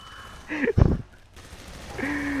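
A short burst of loud, rapid gunfire in Half-Life 2 Deathmatch, a dense cluster of sharp shots lasting under a second, with faint tonal game sounds around it.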